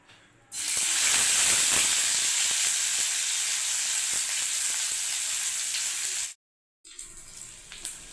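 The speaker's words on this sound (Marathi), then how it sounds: "आता तेल तापल्यानंतर बोंबील टाकून घ्यायचे आपल्याला" Bombay duck (bombil) fish dropped into hot oil in a kadhai sets off a loud, steady sizzle and spatter that runs for several seconds, then cuts out briefly before a quieter frying hiss resumes.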